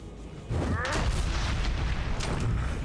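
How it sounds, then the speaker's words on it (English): A boss fires a cannon during a Diablo 3 battle, producing a heavy booming blast with sustained rumbling combat noise, while speech is present throughout. "He's got a cannon."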